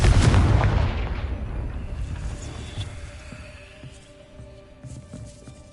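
A Confringo blasting spell explodes in Hogwarts Legacy. It opens with a loud, sharp boom, then the blast rumbles and crackles as it slowly fades into a quieter tail.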